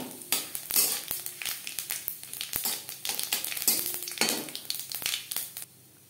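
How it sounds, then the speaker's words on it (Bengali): Cumin seeds, a bay leaf and dried red chillies fry in hot oil in a pan for a vegetarian chana dal, a steady close crackling sizzle with scattered sharp pops and stirring scrapes. "জিরে, তেজপাতা, শুকনো লঙ্কা ভাজা হয়ে গেছে"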